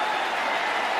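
Cricket crowd applauding at an England–India match, a dense, steady wash of clapping heard alone and at a distance for a brief moment.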